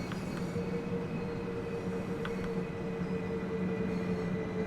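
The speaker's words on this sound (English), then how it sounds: "There's a train leaving as we arrive." An electric passenger train pulls away from a station platform in the Train Sim World 2 simulation, a steady rolling rumble with a low motor hum and faint wheel squeal, continuous and moderately distant with no talking.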